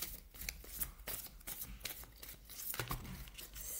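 Oracle cards for a reading are shuffled by hand in quick papery riffles and slides, a close, soft, continuous flutter with brief louder snaps and no talk.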